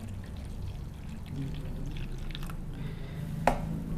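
About 100 ml of water is poured onto grass jelly powder, a soft close splashing pour that builds midway and ends with a brief sharp clink, over a low room hum.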